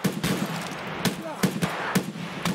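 Gunfire in the video game Escape from Tarkov: a series of sharp, separate shots at irregular intervals, about seven over a few seconds, moderately loud against a steady background rumble.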